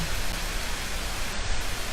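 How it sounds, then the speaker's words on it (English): Steady, dense hiss of rain falling without a break, even and close, with no voices. "this beautiful rain sound in the background"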